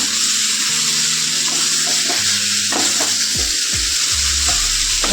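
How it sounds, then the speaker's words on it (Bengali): Vegetables for a Bengali sabzi curry sauté in a hot pan, a steady close sizzle with intermittent scraping and stirring strokes of a spatula against the pan throughout. "ছ মিনিটের মতো কিন্তু সবজিটাকে কষিয়ে নিতে হবে ভালো করে"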